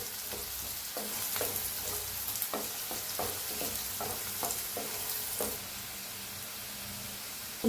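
Boiled brinjal being roasted and stirred in a new kadai, a steady close sizzle with a regular series of soft scraping strokes from the spatula, then a quieter hiss near the end.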